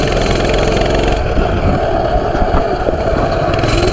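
A Coleman CT200U mini bike engine runs loud and close in a continuous buzzing drone, its pitch shifting slightly after the first second as the throttle changes. No one speaks.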